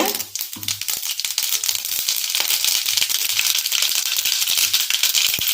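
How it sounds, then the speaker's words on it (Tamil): Mustard seeds splutter in hot oil while the seasoning for kuzhi paniyaram is prepared, giving a dense, close crackling and popping that stays fairly loud and continuous. "கடுகு நல்லா பொரியட்டுங்க"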